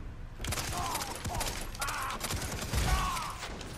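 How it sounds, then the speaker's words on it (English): Bursts of gunfire in the video game Far Cry 3, rapid repeated shots rattling close and loud across the whole stretch, mixed with mechanical clanks and no clear talk. "Two of us unloading rounds inside that guy."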